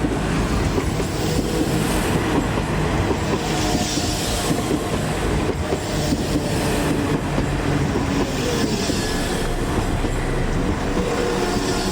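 A West Midlands Railway service formed of two coupled class 172 diesel units pulls into Worcester Shrub Hill station, a steady, fairly loud rumble of wheels and engines with rail clatter running throughout, no voices.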